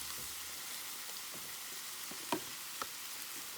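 Mushrooms, zucchini and onion frying on a Blackstone flat-top griddle for hibachi, a faint steady sizzle with a couple of sharp clicks or scrapes near the middle, no talking.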